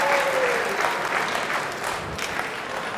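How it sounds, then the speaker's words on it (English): Crowd applause at a 2022 US Open Pool Championship semi-final, a dense steady clatter of clapping that lasts the whole stretch and eases slightly toward the end. "boy, did that get the crowd going again, just when the match looked to be fizzling out"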